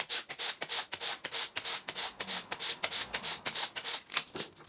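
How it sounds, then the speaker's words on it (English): Brisk rhythmic strokes of 240 grit sandpaper on a wooden mallet, about four hissing rubs per second, close but fairly quiet, with no voices. "So it's now 240 grit to smooth that surface"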